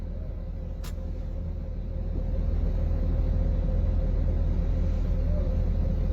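Two buses idle close by in a steady, loud low engine rumble that swells slightly louder partway through, with one brief sharp hiss near the start.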